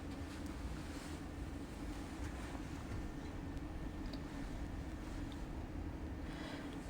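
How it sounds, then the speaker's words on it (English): An OMG MF0032 hydrodermabrasion beauty machine runs with a faint, steady low hum and whoosh that stays even throughout, with no voices. "Start the machine."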